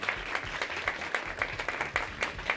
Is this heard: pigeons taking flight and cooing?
no